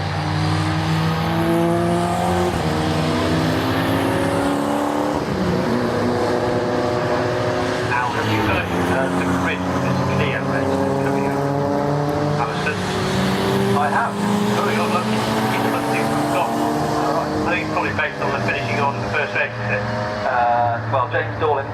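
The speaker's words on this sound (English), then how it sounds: "Davis finishes, and Cox comes through in 6th place." Racing cars roar past during a sports and saloon championship race at Oulton Park, engines droning loudly and continuously with shifting pitch as they pass, while a commentator talks over the noise.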